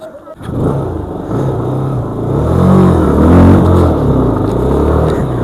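A motorbike stuck on a wet road revs hard and steadily, its engine rising and holding loud close by, with voices in the background.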